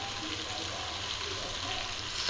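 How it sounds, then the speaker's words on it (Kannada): Onions frying in a pan for vegetable pulao give a steady, even sizzle, close and moderately quiet, with no talking over it. "ಈರುಳ್ಳಿನ ಹಾಕಿ ನೀಟಾಗಿ ಫ್ರೈ ಮಾಡ್ಕೊಳ್ಳಿ"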